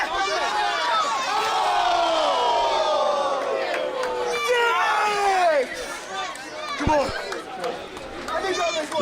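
A wrestling crowd roars and cheers continuously during a WrestleRave match, a loud dense wall of overlapping shouts and yells from a large audience, with some louder whoops near the end.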